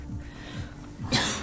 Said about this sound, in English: I think I'm coughing because of allergies.